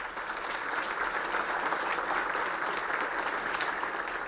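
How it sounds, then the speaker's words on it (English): An audience at a chamber of commerce annual meeting claps for the event sponsors, a dense steady round of applause filling the room at even strength throughout, with no speech over it. "If we can give them a round of applause."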